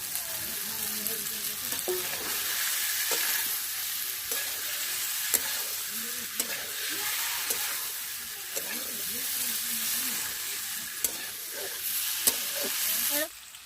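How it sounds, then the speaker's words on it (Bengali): Cauliflower and egg stir-fried in a pan hiss with a loud, continuous sizzle. Scattered sharp clinks and scrapes of a spatula against the pan recur throughout. "এখন আমি এইভাবে 5 মিনিট কষিয়ে নেব"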